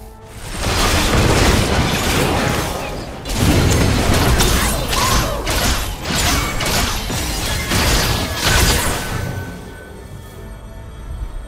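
A turret is destroyed in the Wild Rift video game, a loud stretch of booming crashes and explosive bursts with mechanical clatter that fades near the end.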